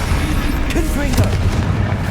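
Confringo explosion spell cast in the Hogwarts Legacy video game, a dense booming blast with rumbling low end and short bursts that carry through the whole clip, set over game background sound.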